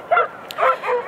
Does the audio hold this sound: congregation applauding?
no